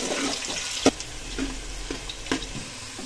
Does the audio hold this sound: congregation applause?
no